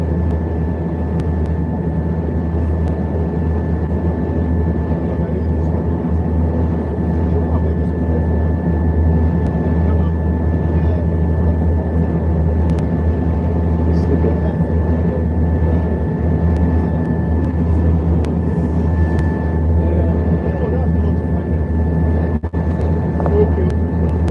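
An airliner sits idling on the taxiway at Lagos Airport ahead of a flight to Abuja, its engines holding a steady, loud, unbroken drone with a faint tonal whine throughout.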